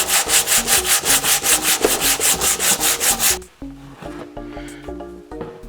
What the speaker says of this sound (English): We're going to sand again.